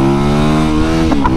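A motor engine revs loudly and steadily under a cranked throttle, a dense harmonic drone held for about a second with a slight pitch rise near the end.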